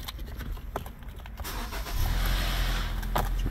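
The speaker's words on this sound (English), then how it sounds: "Crank the vehicle." A 2012 Hyundai Elantra GLS engine cranks briefly after a crankshaft position sensor repair, then catches and settles into a steady, close idle.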